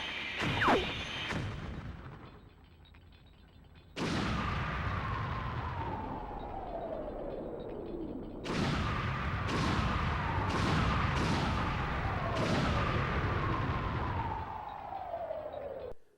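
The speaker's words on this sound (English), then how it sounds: "That's a really huge explosion." Large explosions in the Nintendo 64 game Star Fox 64, a loud broadband blast at about 4 s followed by a rapid string of further bursts from about 8.5 s, each trailing into a falling rumble.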